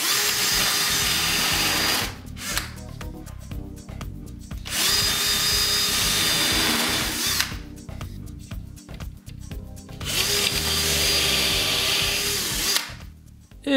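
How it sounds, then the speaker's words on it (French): Power drill boring into wooden planks while building a bin for wood offcuts: three long, loud, whining drilling bursts separated by short pauses, up close, with no talk. "Comme à l'habitude, je perce."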